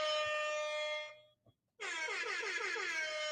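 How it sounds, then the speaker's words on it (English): An air horn blares a steady harmonic blast, cuts out briefly, then returns with a warbling, wavering pitch that sweeps up and down; loud and close, with no talking. "air horn got a virus."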